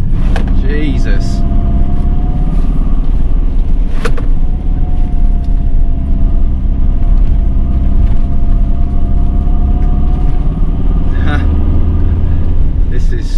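A vehicle engine drones loudly and steadily as it labours in low gear up a very steep road on the North Yorkshire Moors, with a load tied down in the back, and someone talks over it throughout.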